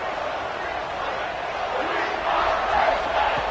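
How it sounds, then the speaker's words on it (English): A loud football stadium crowd roars steadily at a college game between Maryland and Penn State, a dense wall of cheering and shouting that swells louder toward the end. "this crowd is so loud, they better quiet down so they can get the call in"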